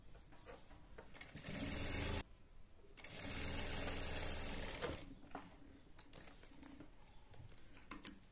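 A sewing machine stitches a plain salwar for a 10–11-year-old child, running in two steady bursts of rapid mechanical whirring with brief pauses between, close and clear with no talk.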